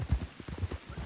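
Horse hooves clip-clop at a steady walking rhythm in a Western video game, soft and fairly close, with faint low background.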